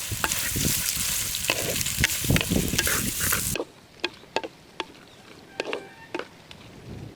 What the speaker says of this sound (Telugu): ఈ ఉల్లిగడ్డలు బ్రౌన్ కలర్ వచ్చే వరకు బాగా వేయించుకోవాలి.